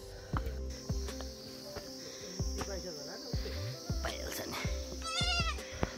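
A young goat kid bleats in a wavering call near the end, in the courtyard of Rauta Pokhari in Udayapur, Nepal, with chirping crickets, sharp clicks and a voice speaking throughout.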